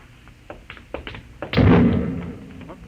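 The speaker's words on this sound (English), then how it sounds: "No, that was an explosion." Explosion sound effect in an old-time science-fiction radio drama: a few light taps and knocks lead into a heavy, rumbling blast that swells and slowly dies away, moderately loud and heard alone.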